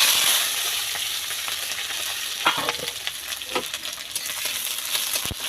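Chopped onion hits hot oil in a pan for a jackfruit curry, producing a loud, close, continuous sizzle with crackling pops and scattered clinks of stirring.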